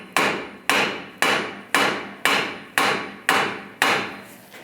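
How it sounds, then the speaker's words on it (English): Eight evenly spaced hammer blows ring out alone, each a sharp metallic strike with a short decaying ring, tapping a strut into place on a 1998-2010 Volkswagen Beetle during a strut mount and bearing job. "You can tap it a little more with a hammer."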